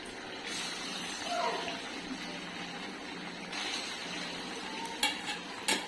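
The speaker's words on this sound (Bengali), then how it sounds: "কড়াইয়ে তেল দিয়ে দিয়েছি, এইবার পনিরগুলোকে হালকা করে একটু ভেজে নেব।" Paneer sizzles in oil in a wok, a soft steady frying hiss with stirring scrapes and a few utensil knocks near the end, fairly quiet.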